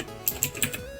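A few quick keystrokes on a computer keyboard, three or four close, crisp clicks in a short burst with no talking.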